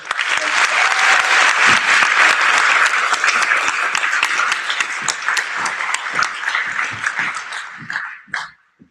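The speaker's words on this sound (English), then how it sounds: "Give them a round of applause." Loud, sustained applause from an audience at a high school NJROTC change of command ceremony, dense clapping that holds steady before thinning out and stopping with a few last claps.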